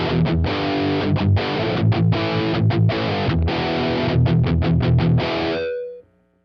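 An electric guitar played through a Mini Tangerine (Orange) amp sim with gain and distortion turned up gives a thick, buzzy, driven tone in choppy rhythmic chords, then a final ringing chord that cuts off.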